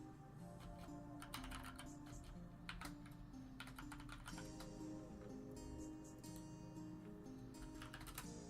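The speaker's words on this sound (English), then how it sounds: "So I'm going to type this into the chat." Computer keyboard typing in quick irregular bursts of clicks, close and steady throughout, with no talking over it.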